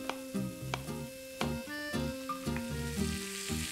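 Potato cubes sizzle and fry in a pan with a steady crackling hiss. Melodic background music plays over the frying throughout.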